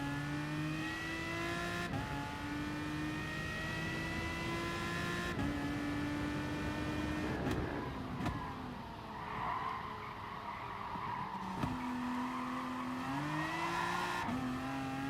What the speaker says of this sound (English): The car is all over the place, struggling so much for grip.